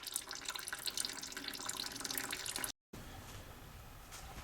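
Coolant drains from a Toyota Highlander radiator in a steady, faint liquid trickle and splash, continuous apart from one brief cut, with no talking.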